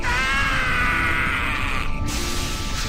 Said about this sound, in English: Hey man, stop screaming!